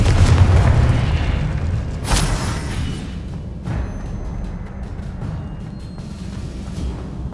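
Confringo blasting spell in Hogwarts Legacy, a deep rolling boom up front followed by a few sharper bursts that fade into lingering rumble.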